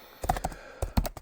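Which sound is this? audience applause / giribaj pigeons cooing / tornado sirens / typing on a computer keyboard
typing on a computer keyboard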